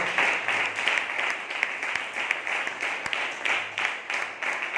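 A congregation clapping steadily during a fasting prayer service praising God, a dense continuous round of applause that holds at an even level throughout.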